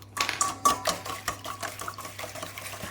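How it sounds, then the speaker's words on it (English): A whisk scrapes and clatters through a thick cheese paste fishing bait mixture in a bowl, with rapid irregular strokes that are loud at first and then settle into a steadier churn. "Whisk it all up"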